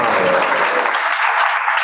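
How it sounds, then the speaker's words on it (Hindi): An audience in a hall breaking into loud applause, a dense, even burst of many hands clapping close by and alone. "जोरदार तालियां।"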